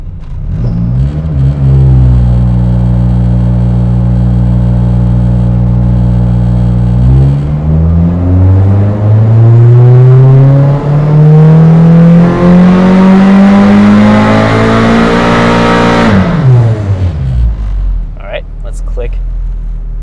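A turbocharged B-series Honda Civic engine revs on a dyno pull, holding a loud steady drone before climbing hard through the rev range to a screaming peak, then cutting off abruptly with a few brief clicks afterward.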